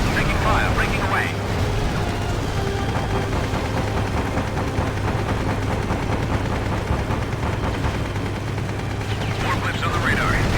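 Rapid machine-gun fire rattles through a World War II aerial dogfight in the video game Secret Weapons Over Normandy, steady bursts over a constant engine drone, with a voice talking at times.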